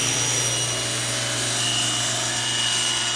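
Power saw cutting scrap cherry wood pieces to width, a steady continuous whine with a low motor hum and rasping bite into the wood, close and loud throughout with no talk.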